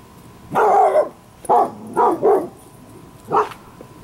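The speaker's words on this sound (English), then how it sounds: "That's the new tactical pup. Barking at, well, I see absolutely nothing." A young dog barks in a series of loud, close yips and barks, one longer bark then three quick ones and a final bark after a pause, with no talk.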